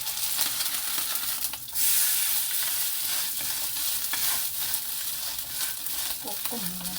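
Acorn kimchi pancake frying in oil in a pan gives a steady, close sizzle with soft crackle, and a spatula scrape and brief stirring shift partway through.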